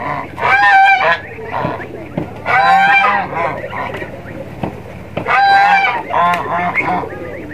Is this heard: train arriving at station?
no